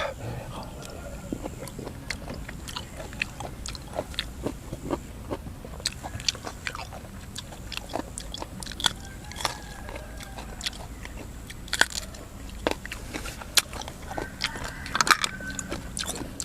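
Close-up biting and chewing of boiled fresh shellfish dipped in a spicy sauce, with a steady run of wet crunches, smacks and slurps, some sharp clicks and scrapes, and low background noise throughout.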